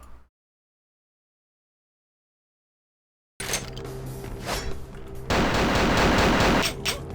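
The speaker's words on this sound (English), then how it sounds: "Shotgun time." Shotgun fire in the video game Vampire: The Masquerade – Bloodlines, starting abruptly after a stretch of silence and building into loud, heavy blasts with dense, continuous combat noise.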